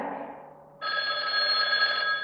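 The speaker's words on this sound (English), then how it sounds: "That's my phone." An old-fashioned telephone bell in a stage play starts ringing abruptly after a faint tonal hum, a steady bright continuous ring that carries on loudly to the end, alone without talk.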